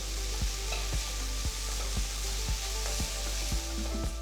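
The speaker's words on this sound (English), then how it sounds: "Saute the onions and garlic for about 2 minutes." Chopped onion and garlic sauté in a pan with a steady, continuous sizzle, marked by a regular series of soft knocks roughly every half second under the frying hiss.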